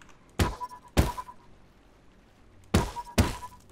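Two pairs of heavy metallic thunks as a hammer strikes a tire in the game Rust, each blow ringing briefly, with quiet gaps between the pairs.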